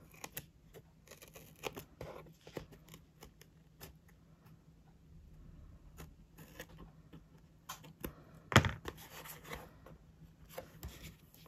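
Scissors snipping through paper while making a lace storage craft, a quiet run of irregular close cuts and rustles with one sharper snip near the end, no talking.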